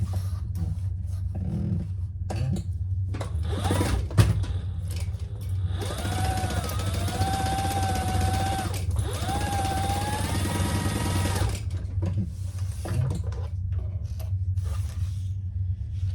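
A sewing machine stitches a leather gusset seam on a crossbody bag, a steady mechanical whir running for several seconds at close range with soft handling noises before and after and no talk.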